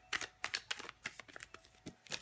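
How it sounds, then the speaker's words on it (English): Tarot cards being shuffled by hand, a quick series of crisp riffling bursts in an irregular rhythm, close and fairly quiet, with no talking. "Go on and put this back in the deck and get back to shuffling."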